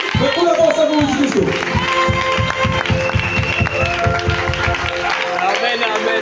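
A church congregation claps in a fast, steady rhythm and cheers for the Lord Jesus, with crowd voices and talk layered over the continuous applause.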